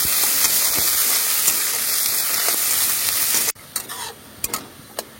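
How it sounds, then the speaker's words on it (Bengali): Onions fry in oil with dry chilli, cumin and bay leaf, giving a loud, close, steady sizzle with stirring. Partway through the sizzle drops sharply, leaving quieter crackles and scrapes. "এবার পেঁয়াজ ভাজা ভাজা হয়ে গেছে"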